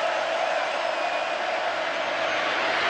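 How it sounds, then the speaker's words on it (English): Steady stadium crowd roar at a college football game between Alabama and Texas A&M, a loud, continuous wash of massed voices with faint cheering, no distinct pauses. "The defense in college signals has to handle the crowd noise as well for A&M"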